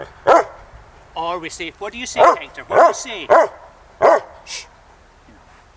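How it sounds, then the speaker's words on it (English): A dog barks on command during obedience training, several short, loud single barks between a man's encouraging speech, close by and evenly spaced. "how to get your dog to bark"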